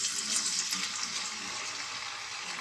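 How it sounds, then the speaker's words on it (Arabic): Potato pieces frying in hot oil, a steady broadband sizzle and crackle that stays loud and even throughout with no voices. "صافي من بعد ما سخن الزيت ديالنا نكرنيوها"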